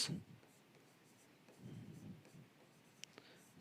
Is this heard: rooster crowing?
no